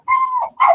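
A dog giving two quick whining yelps in a row, close and loud, with a brief pause between them.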